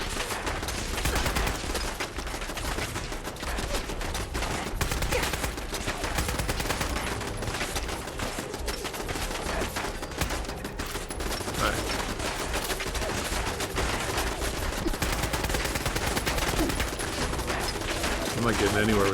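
Machine gun fire in the Fallout 4 video game, with dense continuous rapid bursts of gunfire at steady loudness throughout, mixed with game sounds.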